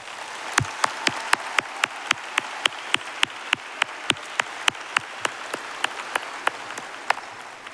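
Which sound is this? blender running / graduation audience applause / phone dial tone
graduation audience applause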